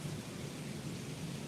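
Hard rain pouring steadily with a low thunder rumble, a dense continuous wash of noise at a moderate, even level throughout.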